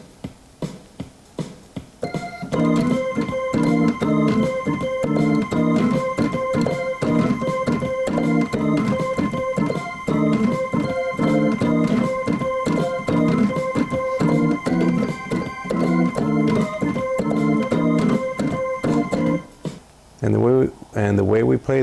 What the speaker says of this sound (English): Here's a lick specifically for organ players.